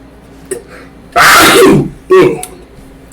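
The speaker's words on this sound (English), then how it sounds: "You know when you just feel the sneeze building." A single sharp human sneeze bursts out loudly and close, preceded by a faint intake of breath and followed by a second shorter exhalation burst and small sniffs.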